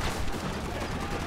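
Machine gun fire in Red Dead Redemption, a brief, dense burst of rapid shots rattling together at moderate volume with no talk.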